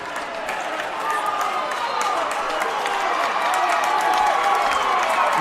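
The crowd at a high school swimming state final, Hermits versus CBA, keeps up steady cheering and clapping that swells slightly in a reverberant natatorium, while a commentator talks over it.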